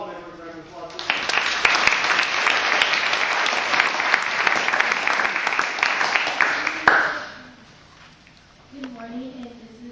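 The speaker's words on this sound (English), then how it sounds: "Give all the members a round of applause." Audience applause for award-winning student zoo project team members, a dense burst of clapping lasting about six seconds before cutting off, followed by quieter talk.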